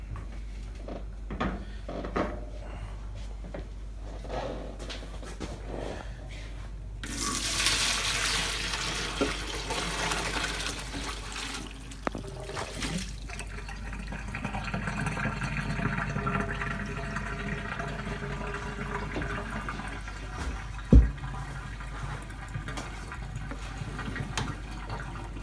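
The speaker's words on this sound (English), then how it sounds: "Now we have to strain the pasta and put it back in the pot." Water pours and splashes as cooked pasta is strained in a kitchen, a loud rushing burst lasting several seconds, then a softer trickle with clattering pot and drawer-like knocks.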